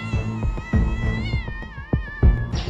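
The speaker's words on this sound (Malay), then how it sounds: "Tapi Aisyah, kucing tu dalam kesakitan" A cat meowing in pain gives a series of drawn-out, close, loud wavering meows, some rising into a strained cry at the end, heard alone without speech.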